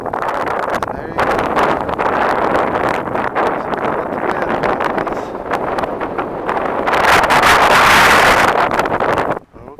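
Heavy wind buffets an outdoor microphone while someone walks near houses under construction, a loud continuous rumbling roar that surges louder toward the end before cutting off abruptly.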